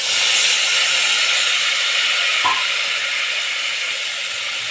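Tomatoes hit a hot pan of spiced onions for fenugreek-leaf pulao, producing a loud, continuous hissing sizzle that fades slightly toward the end, with no voices.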